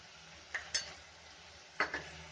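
Onions frying in a pan for aloo masala are stirred, giving a faint low sizzle broken by a few sharp spoon clicks and scrapes against the metal.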